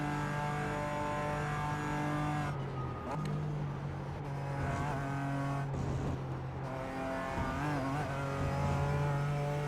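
A BMW GT4 race car circles Watkins Glen in a sim racing game, its engine droning at steady high revs with clear gear shifts and brief lifts, while a voice talks quietly underneath.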